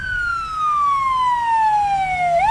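An ambulance siren wails nearby with a long falling tone that sweeps back up at the end, loud and steady over faint traffic rumble.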